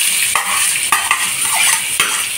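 Leftover onion added to hot oil for a lamb chest curry, a loud close sizzle punctuated by a few sharp metallic stirring scrapes against the pan.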